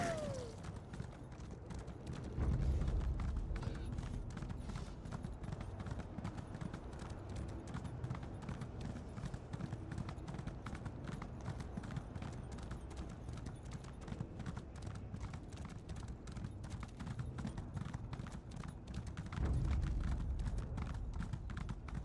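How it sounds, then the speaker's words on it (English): A zombie horse walks through the Elder Scrolls Online game world with a steady, continuous clip-clop of hooves and occasional heavier low thuds, heard at moderate volume with no talk. "Just me and my zombie horse walking around, roaming around this day."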